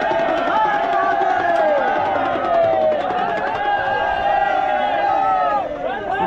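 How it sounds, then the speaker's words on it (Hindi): A dense crowd of pilgrims walking with the Kedarnath doli on the route from Gaurikund, a loud continuous babble of many voices and shouts with footsteps and movement, close and unbroken. "श्रद्धालुओं की भीड़ डोली के साथ।"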